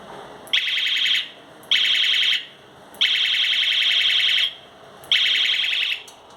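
A modified bicycle's electronic horn sounds four loud, steady tones in a row, each lasting about half a second to over a second, separated by short pauses.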